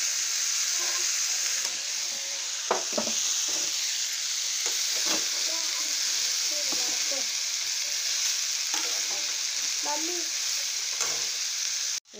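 Tomatoes sizzle steadily in a hot pan, with the soft scrape and clack of stirring scattered throughout under a constant hiss.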